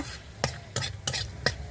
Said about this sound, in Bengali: পনিরের জন্য জিরে, গরম মশলা, তেজপাতা, শুকনো লঙ্কাটা ভেজে নেওয়া হচ্ছে।